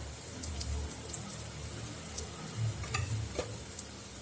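Vegetable urad dal vada frying in oil, a soft, fairly faint bubbling sizzle with occasional light ticks and clinks, no voices.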